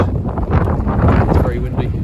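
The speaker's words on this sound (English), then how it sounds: "It's very windy." Strong outdoor wind buffets the microphone with a loud, steady, low rumble and gusty roar, recorded during a cargo bike restoration.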